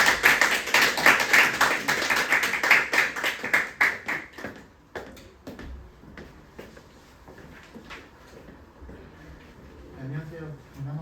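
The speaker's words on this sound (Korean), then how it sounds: "자, 박수로 맞이해 주세요." An audience claps to welcome a math teacher onto the stage at a high school exam strategy information session. A dense burst of clapping fades after about four seconds into scattered claps and room noise.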